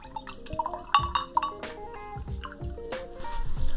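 Beer glugs and splashes into a glass with dripping and light clinks, a close, steady pour lasting a few seconds.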